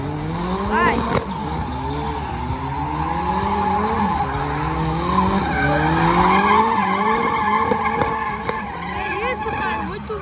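A drift car at a Brasília drift championship round slides through a pass, with long, wavering tire squeals and engine revs rising and falling while spectators talk and cheer over it.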